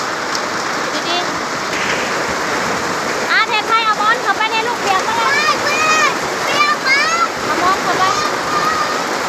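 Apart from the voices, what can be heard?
heavy rain during a storm in Laos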